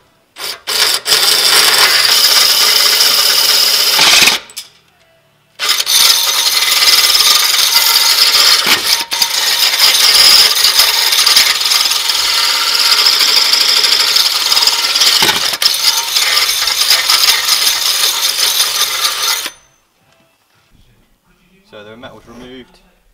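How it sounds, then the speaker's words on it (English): A loud, steady power-drill whine grinds through the metal of a VW Transporter wheel hub for several seconds, pauses briefly, then continues before stopping, followed by faint rattling. "the next step is to drill through and remove the little ridge of metal"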